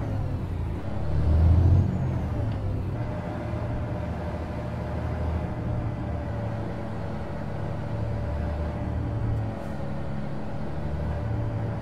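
A truck's air brake releasing in American Truck Simulator, a loud hiss of escaping air early on over the low rumble of an idling diesel engine that continues steadily afterward.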